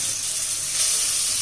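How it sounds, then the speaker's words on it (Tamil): Grated pumpkin sautéing in ghee in a pan gives a steady, even sizzling hiss, moderately loud and unbroken, with no voices. "இப்போ இந்த நெய்யிலேயே நம்ம திருவி வச்சுருக்கிற பரங்கிக்காய் எல்லாத்தையும் சேர்த்து நல்லா வதக்கிக்கலாம்."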